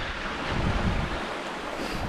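Rushing water from a river or stream beside a walking trail on the Bradford Millennium Way, a broad, steady roar mixed with gusty wind buffeting the microphone, no talk.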